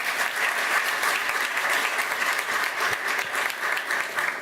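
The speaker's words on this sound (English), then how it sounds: "A big round of applause for Speaker Nancy Pelosi." An audience applauding at a Library of Congress ceremony in Washington marking Mahatma Gandhi's 150th birth anniversary, with dense, sustained clapping from a large indoor crowd throughout.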